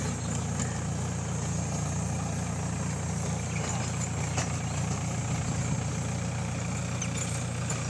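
A Mahindra 575 DI tractor engine runs steadily with a rotavator in farmland, a continuous low diesel drone that holds even and moderately distant throughout, with no voices.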